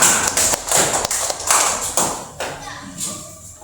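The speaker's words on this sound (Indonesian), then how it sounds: "Oke, beri tepuk tangan." A classroom of students claps in uneven bursts during a math lesson, a short round of applause with thuds and taps, and children's voices mixed in.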